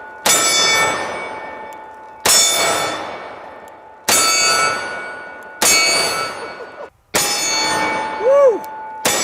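Four loud .500 Magnum revolver shots strike a steel target about two seconds apart. Each hit is a sharp clang followed by a long, ringing metallic decay, and a short whoop comes near the end.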